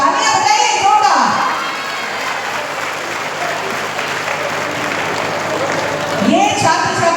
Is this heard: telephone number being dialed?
no